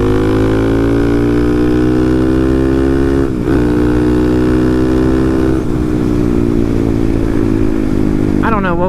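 A 250cc Honda Monkey motorcycle engine revs loud and close, holding a steady, rich harmonic drone with brief throttle dips and a sharp rising rev at the end.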